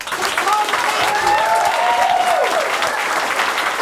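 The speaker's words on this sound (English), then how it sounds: "please, let's give a huge round of applause" A crowd gives a warm, sustained round of applause at an author event in a university bookstore, with voices calling out over the clapping.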